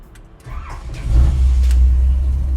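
A 1956 Ford panel truck engine cranks and fires up, catching after about a second and settling into a loud, steady low rumble close by.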